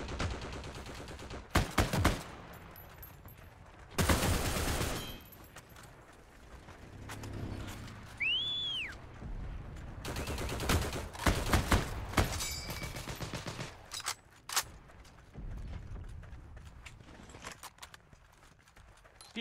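Machine gun fire in the World War II shooter Heroes & Generals comes in intermittent bursts of varying loudness, scattered among other battlefield clatter, with a brief whistling tone partway through.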